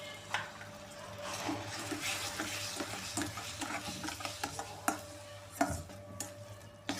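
A spoon stirs flour and milk into thick jaggery syrup in a pan over low heat, giving soft scraping and clicking strokes with a faint sizzle underneath, close and quiet, no voices.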